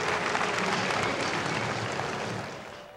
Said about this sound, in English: Somewhat muted applause inside the arena here